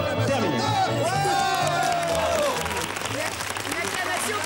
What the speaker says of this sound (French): On va lui faire véritablement une acclamation.